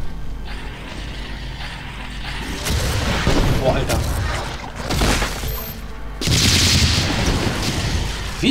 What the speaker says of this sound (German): Von oben schießt noch einer.